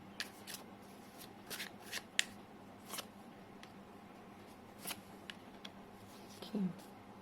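Tarot cards riffle and slide in a quiet shuffle, with soft flicks and snaps of single cards drawn from the deck, faint and close against a low background hum.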